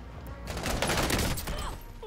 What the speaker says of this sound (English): house clearing with the shotguns.